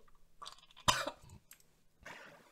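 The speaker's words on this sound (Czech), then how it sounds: "Mám kašel." A single sharp cough, close and abrupt, from a player in a Roblox restaurant game, with softer throat and mouth noises before and after in an otherwise quiet scene.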